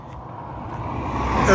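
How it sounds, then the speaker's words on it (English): Roadside traffic on a road between Ermelo and Volksrust, a steady broadband rumble that swells as a vehicle draws nearer, with a voice talking over it. "sorry for the noise of the traffic"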